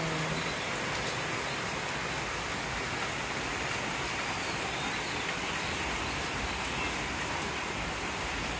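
Rain falls steadily on a rainy day, an even, soft broadband hiss that stays constant and fairly faint throughout, with no voices over it.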